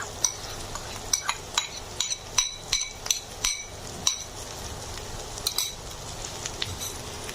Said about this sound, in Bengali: এবার আমি চালগুলো দিয়ে দেবো।